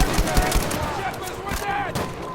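Rapid gunfire during a Battlefield V match, sharp repeated shots crackling over a dense battlefield din, with someone talking throughout.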